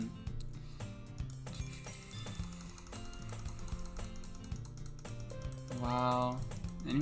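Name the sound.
furious clicking while playing a computer game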